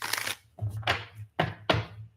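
Tarot cards being shuffled by hand, a few quick papery riffling bursts separated by short pauses, close and fairly quiet over a low steady hum.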